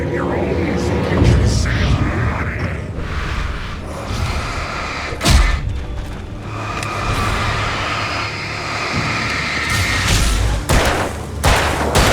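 Gunfire in the video game Alan Wake sounds as several heavy booms and thuds, one sharp loud shot standing out, over a dense game soundscape while someone talks.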